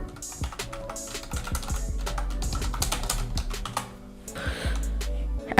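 Rapid, uneven keystrokes on a computer keyboard, close and fairly loud, with a short pause near the middle before a final burst of typing; no voices.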